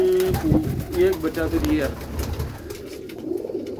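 Pigeons in a breeding loft coo close by in a series of soft, throaty rolling calls, with someone talking over them throughout.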